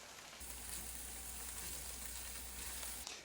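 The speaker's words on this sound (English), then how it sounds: "I will stir the flour into the onions for about 2 minutes just to cook the flour" Flour being stirred into onions frying in a pan gives a steady, close sizzle that starts abruptly and holds evenly for a few seconds before cutting off.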